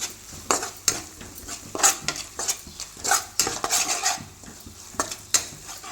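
A spoon stirs a spice mixture of chili powder, garam masala, coriander powder, salt and turmeric through egg fried rice in a pan, giving rhythmic scraping strokes over a soft sizzle.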